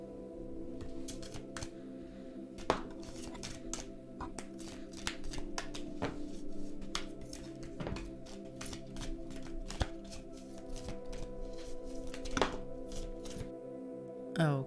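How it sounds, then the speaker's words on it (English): A deck of tarot cards is shuffled close by in repeated crisp riffles and soft taps, a steady run of card snaps over a faint constant hum. "I'm just going to start shuffling"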